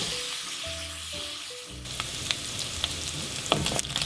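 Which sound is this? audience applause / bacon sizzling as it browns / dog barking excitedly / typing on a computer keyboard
bacon sizzling as it browns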